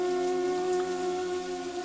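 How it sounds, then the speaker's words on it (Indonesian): Heavy rain pours steadily as a constant hiss beneath a sustained tonal drone, with no break or change across the short stretch. "suara derasnya air hujan yang turun"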